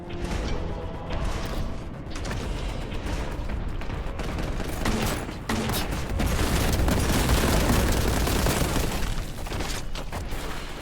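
Rapid gunfire and booming blasts from the retro shooter Warhammer 40K Boltgun, a dense, loud barrage of shots and explosions that grows heavier in the second half, with no talking.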